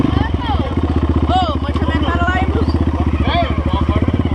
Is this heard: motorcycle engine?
yes